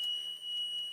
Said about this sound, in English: check your emergency buzzers on the windows